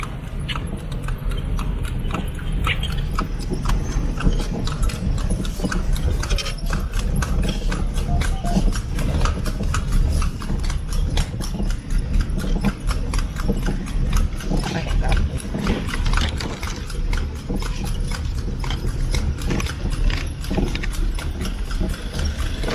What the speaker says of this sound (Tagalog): So I'll be taking you for a ride with a horse, and they will take us back here in Colon.